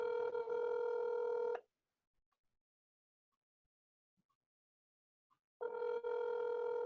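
Telephone keypad tones pressed on a phone menu line, a steady run of DTMF beeps that gives way to near silence with faint clicks before the tones come back.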